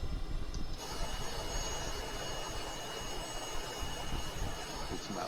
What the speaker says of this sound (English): I like the sound the jet makes.